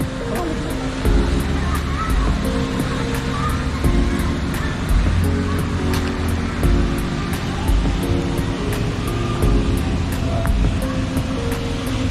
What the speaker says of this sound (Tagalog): Lakas ang agos mga choy